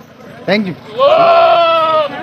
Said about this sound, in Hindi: ये देखो यार खूबसूरत बकरा